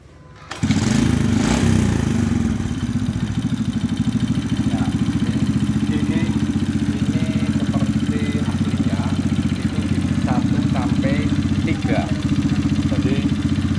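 A homemade motorized bicycle engine idles loud and close, starting abruptly and running steadily with a dense low putter throughout, small clicks and knocks over it, while people talk intermittently.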